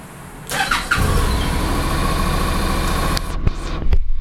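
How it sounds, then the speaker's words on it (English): A motorcycle fitted with an H4 LED headlight bulb cranks briefly and catches, settling into a steady, fairly loud idle that runs alone for several seconds, with a couple of small blips near the end. "So let's start up the bike."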